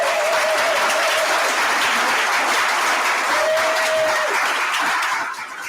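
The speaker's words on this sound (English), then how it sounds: "So give her a round of applause." A conference audience applauds in a steady, dense wash of clapping that holds throughout and thins slightly at the very end.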